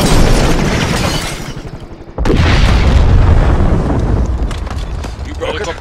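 A helicopter explodes in Call of Duty: Modern Warfare, a heavy, rumbling boom that bursts in suddenly and rolls on for seconds amid dense battle noise, with voices talking over it.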